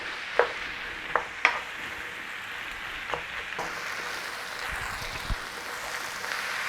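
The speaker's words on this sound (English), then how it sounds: "Just keep working your onions down until we've caramelized them as best we can." Onions caramelizing slowly in a pan for French onion soup, a steady low sizzle with a few sharp clicks of a utensil against the pan, no voices.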